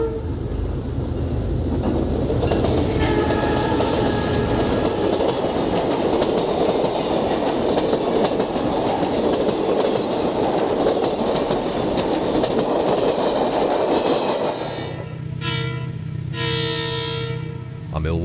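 Amtrak's Hiawatha Number 9 passenger train approaches Harwood Avenue in Wauwatosa, Wisconsin, on Thanksgiving Day 1971, a loud, steady rumble with clattering wheels that ends in repeated blasts of the horn.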